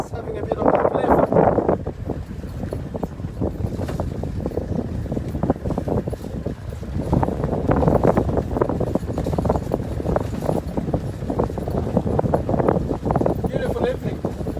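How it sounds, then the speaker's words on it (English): Gusty evening wind buffets the microphone in loud, rumbling bursts outdoors on a safari at Mahali Mzuri, with speech audible underneath. "it's a little bit windy"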